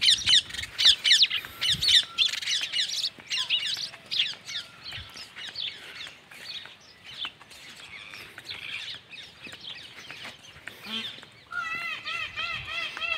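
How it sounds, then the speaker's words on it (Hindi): Loud, harsh peacock calls ring out repeatedly, mixed with a chorus of other squawking birds close by, including crows and pigeons. "मोर की आवाज़"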